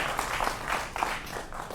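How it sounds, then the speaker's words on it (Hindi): Studio audience applause greets guests on a televised Hindi political debate show, a steady wash of clapping at moderate level with no talk over it. "तो जोरदार तालियों से आपका अभिनंदन है।"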